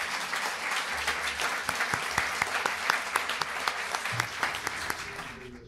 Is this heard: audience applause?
yes